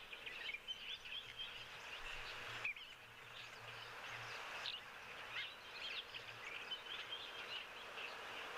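Blacksmith lapwings cheep faintly in open nature, scattered high calls over a steady outdoor hiss with low rumble, distant and soft.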